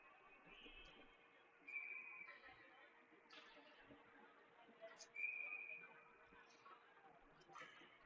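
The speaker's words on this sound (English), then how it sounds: "Face-off whistle down." Referee whistle at a preseason high school hockey face-off, a few short shrill blasts heard faintly in a hollow rink, with crowd murmur and chatter around them.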